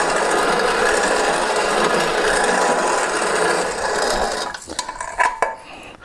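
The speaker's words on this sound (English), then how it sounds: "when they turn the handle on it, it actually partly grinds it." A hand-turned grinder at a windmill rasps steadily as whole grain is ground, a loud continuous gritty scraping that breaks into uneven knocks and clunks over the last two seconds.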